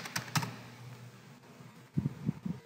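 Several quick keystrokes on a computer keyboard while entering a value in design software, soft clicks clustered near the start and again near the end, close and fairly quiet with no talk.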